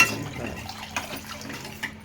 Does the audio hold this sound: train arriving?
no